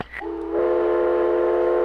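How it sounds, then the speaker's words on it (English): A train whistle sound effect from the video game Myst, a short, steady, clear whistle tone with layered harmonics that swells in after a brief rising onset and holds loudly for over a second. "A train whistle."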